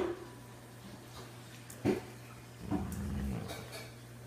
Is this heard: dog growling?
yes